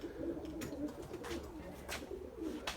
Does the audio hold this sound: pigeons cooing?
yes